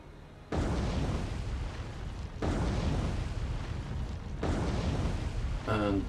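Three heavy torpedo explosions in the War on the Sea naval game boom one after another about two seconds apart, each a loud rumbling blast that rolls into the next as a ship is struck.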